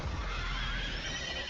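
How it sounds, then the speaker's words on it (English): A horse in an anime gives a loud, close neigh, a sustained, wavering whinny lasting the whole short moment, heard over a dense, noisy background without speech. "Is that a horse?"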